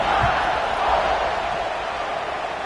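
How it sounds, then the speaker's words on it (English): Stadium crowd in the video game NCAA 26 buzzing after a score, a broad steady roar of cheering voices heard at a distance without distinct commentary. "this crowd is buzzing after that last score"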